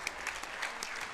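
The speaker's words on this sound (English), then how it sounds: "Round of applause for our first fighters" Brief burst of audience applause at an MMA fight night, dense clapping from a crowd, loud and close, lasting about a second.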